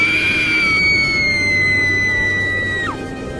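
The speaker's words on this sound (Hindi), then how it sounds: "उसकी चीख उस भयानक काली रात की बरसात को चीरती हुई सीधी लखन के कानों में पड़ती है।" A woman screams loudly in pain on a stormy, rainy night: one long, high, sustained cry that drops off sharply at the end over a steady background rush.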